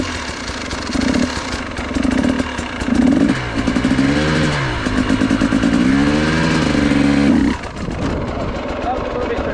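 Motorcycle engine revving hard during stunt or wheelie training, held at steady high RPM with rising and falling pitch sweeps, loud and close, then dropping off near the end.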